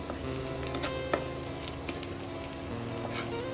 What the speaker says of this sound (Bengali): শুকনো মরিচটা ডলা দিয়ে তাহলে সেই স্বাদের সরষের তেল দিয়ে ভাজতে আছি